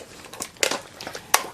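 Packaged fidget spinners are shuffled by hand, giving brief crinkly plastic-packaging rustles and a few sharper crackling bursts, fairly quiet and close.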